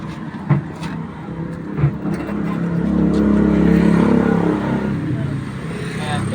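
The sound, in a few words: Rusi 175 motorcycle kick-started, engine revving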